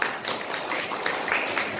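An audience at the opening of the 37th Korean Fine Arts Association Gumi branch exhibition claps in a dense, steady round of applause that fills the room without a break and is heard alone.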